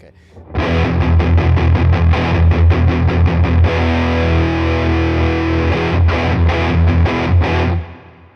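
Heavily distorted electric guitar through a Mythos Pedals Positron fuzz pedal with a fuzzy, saturated tone, played loud with choppy strummed chords, then a sustained ringing stretch before more rhythmic hits.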